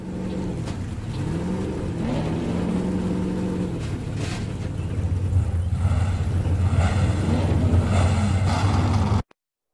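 Race car engines in the Cars video game drone loudly and continuously at the starting line, with shifting revving tones over about nine seconds before cutting off abruptly.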